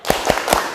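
A group does a rhythmic spirit clap in an Indonesian teacher-training classroom, three sharp claps spaced evenly across under a second, close and fairly loud.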